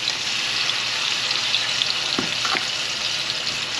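Chicken skin browns in a hot pan for a Cuban chicken and potato stew, giving a steady, loud sizzle with a couple of faint clinks partway through.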